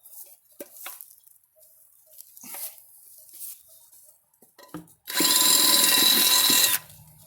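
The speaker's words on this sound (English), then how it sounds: "I'm gonna drill into my bucket here." A few faint clicks and scrapes, then a power drill whines loudly into a metal bucket for nearly two seconds and stops abruptly.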